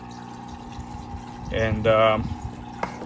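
An aquarium filter in a turtle tank circulates water, making a continuous gurgling, pouring trickle beneath a close speaking voice.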